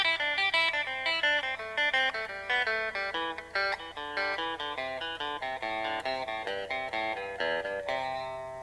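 A brisk, close country guitar run of quick clean picked notes in rapid succession, even in loudness, ending on a held ringing note; no talking.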